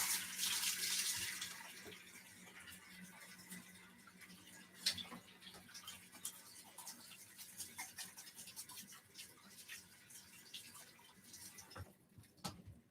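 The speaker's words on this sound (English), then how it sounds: "I'm going to wash my hands real quick." Tap water running into a kitchen sink while greasy hands are washed after cooking bacon, a soft steady hiss of flowing water with faint splashing and small clinks, quiet and without speech.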